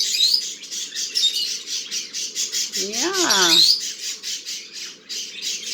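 Pet parrots in a household flock of eighteen give a loud squawk among a run of rapid chirps and calls, with a brief word spoken over the birds.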